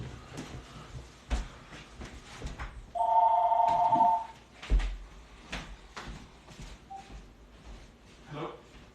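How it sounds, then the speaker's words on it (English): A telephone rings in one burst of a trilling bell lasting about a second, fairly clear amid people talking nearby. "My phone's ringing."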